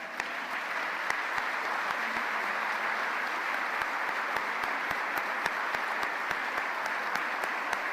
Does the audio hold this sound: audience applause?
yes